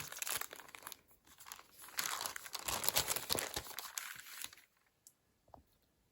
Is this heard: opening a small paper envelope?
yes